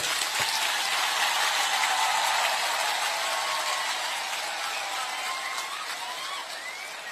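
An audience claps in sustained applause at a live event, a dense steady patter that slowly fades a little over several seconds.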